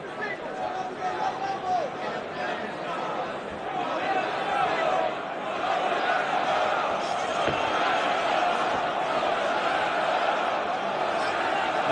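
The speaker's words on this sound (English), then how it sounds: "The crowd is chanting something, but I don't know what it is." An arena crowd at an MMA fight keeps up a sustained chant and roar in the background while a commentator talks over it, steady and moderately loud.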